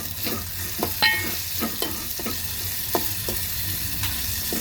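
Spiced ghata bhaji with ginger, garlic, onion, tomato and salt stirred in a pan, with repeated spoon scrapes and knocks over a constant sizzle, close up with no talk.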